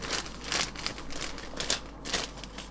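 A plastic bag holding Heller 1/72 E-2C Hawkeye model kit parts is handled up close, with soft crinkling rustles in short irregular bursts.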